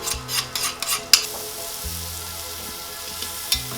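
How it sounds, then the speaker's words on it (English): Aromatics and onions hitting hot pork fat in a pan, a few quick scraping stirs and clatters up front, then a steady close sizzle with an occasional utensil tap. "add all of our aromatics right here into all of this pork fat"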